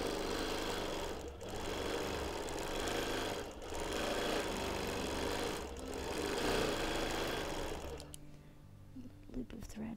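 A sewing machine stitches a baby quilt with minky backing, running in long steady bursts with brief pauses between runs before stopping near the end, loud and close.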